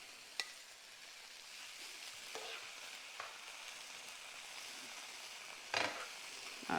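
Pork chops sizzling in a pan with mushrooms heaped on top, a quiet steady hiss broken by a few faint clinks and scrapes.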